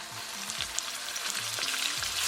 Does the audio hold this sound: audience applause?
no